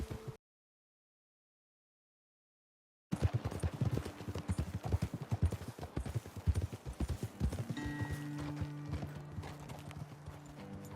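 Horses' hooves clip-clop steadily and close in the video game Red Dead Redemption 2, a brisk rhythmic patter resuming after a silent gap, with a horse whinnying toward the end.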